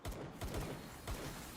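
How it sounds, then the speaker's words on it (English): Gunfire in the Palworld video game, several faint distant shots popping in a loose irregular series at low volume. "Is that a gun I hear?"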